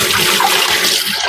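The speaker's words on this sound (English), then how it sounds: "Now let me wash my hands." Water runs steadily from a kitchen tap as hands are washed, a continuous close splashing hiss that fills the short moment without pause or talk.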